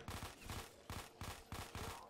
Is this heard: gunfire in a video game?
yes